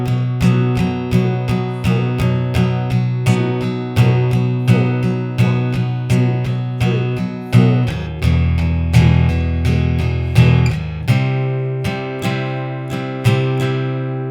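An acoustic guitar strums the chords of a song in a steady down-up pattern, loud and close, each stroke ringing with no voices.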